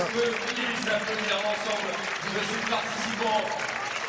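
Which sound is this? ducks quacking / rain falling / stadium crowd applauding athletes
stadium crowd applauding athletes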